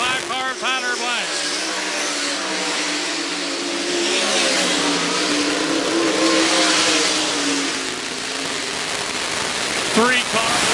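Race cars roar past at State Fair Speedway late in a feature race, engines revving loud and steady with a rising whine as they pass close, under a steady noise wash with an announcer's voice present.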